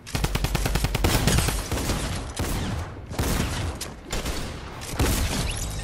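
Video game gunfire: rapid automatic bursts with a few heavier blasts, loud and close, in a dense, continuous exchange of fire.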